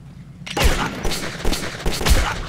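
Gunfire from the shooter game Metro 2033 thumps in an irregular burst of shots, moderately loud and mixed with the game's background noise, with no talking over it.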